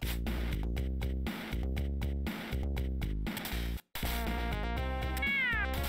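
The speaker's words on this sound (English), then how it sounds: "Oh, it's a kitty" A cat meows repeatedly in long, tonal calls with short pauses between them, loud and close, with no speech.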